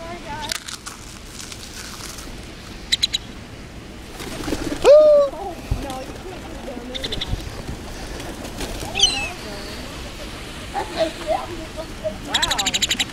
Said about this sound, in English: Too many birds.